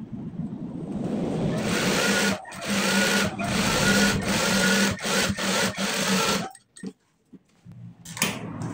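A sewing machine stitches a trouser pocket in fast, steady whirring runs broken by brief pauses, loud and close, with a longer stop near the end before a short final burst.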